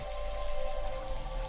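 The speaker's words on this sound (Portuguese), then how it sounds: "Nesse momento, uma chuva fina despencou do céu e Arlon pôde beber um pouco da água." Light, fine rain falling, a soft continuous patter and hiss with no distinct drops standing out, steady and fairly quiet throughout.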